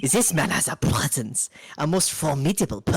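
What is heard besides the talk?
None of the usual background noises is heard.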